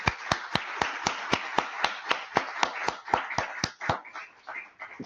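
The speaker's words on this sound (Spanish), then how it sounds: "Ahí va un aplauso fantástico de todos los que estamos acá" A lecture audience gives a few slow claps, one after another at an even pace, rather faint, then thins to a few scattered claps at the end.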